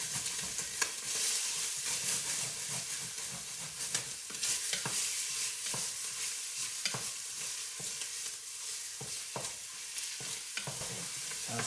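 Sausage browns in a pan with a steady sizzle, broken by repeated scraping and knocking strokes as a utensil breaks the meat apart, fairly close and with no speech.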